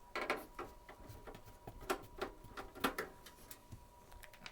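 Faint, irregular clicks and scraping as screws are removed to open a Pioneer CO-V50 laserdisc autochanger, small close metallic ticks scattered unevenly across the span, no talk.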